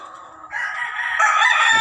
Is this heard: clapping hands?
no